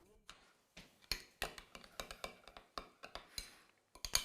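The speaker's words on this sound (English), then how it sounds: "Stir the yogurt." A spoon scrapes and clinks rhythmically against a bowl while yogurt is stirred with herbs, a quick run of close, bright taps and knocks with no talking.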